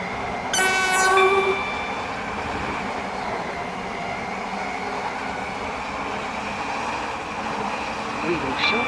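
A Class 345 train in the Roblox game SCR rumbles along steadily, opening with a brief high electronic chime, the running noise holding at a constant level throughout.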